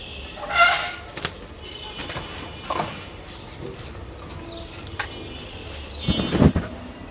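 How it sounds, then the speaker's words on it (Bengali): Several birds flap their wings in short bursts near a home, with a loud flurry early on and another at the end, a few faint chirps and coos scattered between, with no talking. "তোদের সাথে দেখা করতে তোদের কত পাখি আসতেছে"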